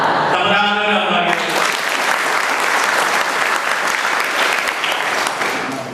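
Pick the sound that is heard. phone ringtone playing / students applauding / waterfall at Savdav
students applauding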